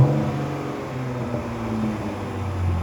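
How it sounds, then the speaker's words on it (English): A car engine fitted with a cold air intake idles and revs steadily, its low rumble holding up at raised revs with a faint intake whir close by, and no talk over it. "give y'all a couple revs"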